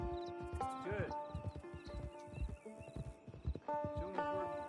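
Horse hooves clip-clopping in the Red Dead Online video game, a steady rhythmic trot with occasional snorts, accompanied by game music and a voice talking over it.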